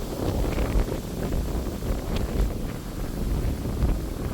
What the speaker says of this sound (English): You're probably hearing the wind.